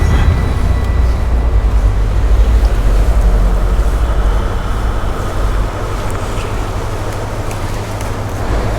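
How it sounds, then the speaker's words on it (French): A powerful boat motor runs on water while fishing in a city centre, a loud steady low drone close by, with water rushing and wind noise, and no voices. "Je peux vous dire que le moteur il est puissant."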